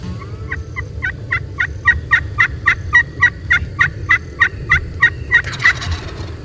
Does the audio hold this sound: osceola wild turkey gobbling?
yes